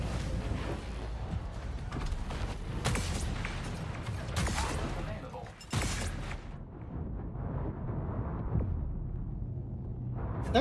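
Loud flashbang grenade blast in a video game, a sharp broadband burst around six seconds among busy clatter of gameplay effects, followed by a quieter muffled ringing stretch.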